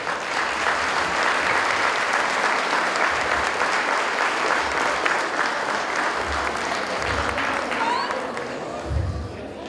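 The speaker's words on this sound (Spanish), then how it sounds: "Así que les pido un aplauso, por favor." Audience applause fills a graduation ceremony hall, steady and sustained throughout, with faint low voices underneath near the end.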